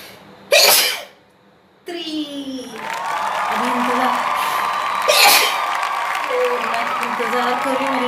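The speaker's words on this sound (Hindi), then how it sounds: "अब तो छींक तो मुझे आ गई है," A woman sneezes after sniffing pepper powder: one sharp, loud sneeze burst near the start, a short pause, then sustained breathy nasal sounds and a second sneeze burst partway through, all close to the microphone.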